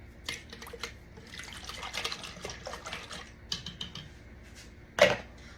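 Water, one and a half cups, is poured into a bowl holding three eggs for an eggplant batter. Light splashing trickles and patters come in irregular bursts, ending with one sharper splash or clink near the close.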